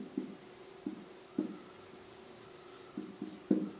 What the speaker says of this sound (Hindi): तो सबसे पहले अगर हम यहाँ पे लिखेंगे